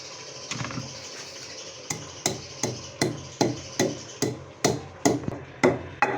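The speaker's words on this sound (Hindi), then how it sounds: "पहले हम गरम मसाले को कूट लेंगे।" Garam masala spices are pounded in a mortar, giving a steady series of about a dozen sharp, close thuds at a regular rhythm over faint kitchen background.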